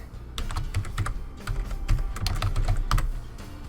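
Rapid keystrokes on a computer keyboard as a folder name is entered, close and clear clicking in short bursts with brief pauses between them, no voices.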